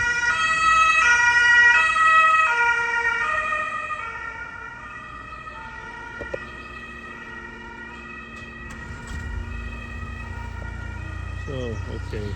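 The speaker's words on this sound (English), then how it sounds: "There is the ambulance coming" An ambulance siren wails loudly in a steady rising-and-falling pattern, then fades as the vehicle moves off, leaving quieter road traffic and rumbling vehicles nearby.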